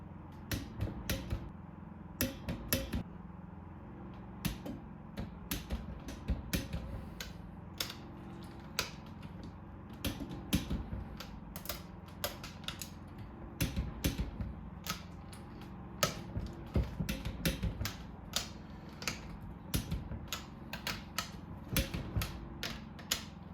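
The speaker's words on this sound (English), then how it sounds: "The head get torqued to 22 foot-pounds as well." A torque wrench clicks and ratchets while tightening the cylinder head bolts on a Honda CR125 two-stroke engine build, sharp close ticks in irregular bursts over quiet room noise.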